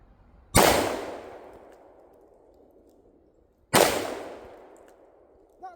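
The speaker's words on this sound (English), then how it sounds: "We're going to start by shooting a can of frosting that I have posted right up on that target there." Two loud shots from a Taurus Judge revolver firing number 6 shot shells at a frosting can outdoors, each a sharp crack with a long fading echo, about three seconds apart.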